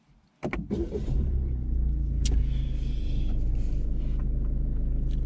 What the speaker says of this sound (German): Wir sollen unser Auto starten.